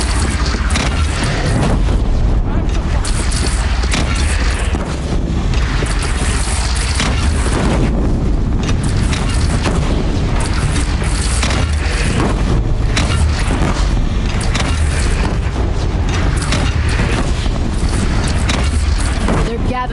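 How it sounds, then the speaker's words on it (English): Booming cannon blasts and explosions in a Horizon Zero Dawn battle against a bandit clan's single cannon, loud and continuous through the whole stretch with rumbling low-end, wind-like noise and voices talking over it. "They only have one cannon!"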